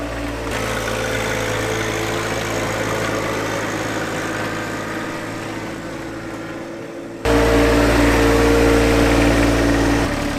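Compact tractor engine running steadily while plowing a snowy driveway, a loud continuous low rumble and drone that jumps noticeably louder partway through, with no talk over it.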